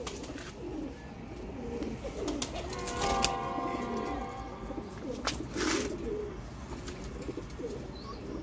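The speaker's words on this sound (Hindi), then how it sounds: "मैंने आपको बताया था कि ये 20 कबूतर हैं सारे" A flock of about twenty Heeralal pigeons, all of one breed, coo steadily in a continuous, overlapping murmur, with a few brighter chirps and a faint wing flutter over a busy outdoor background.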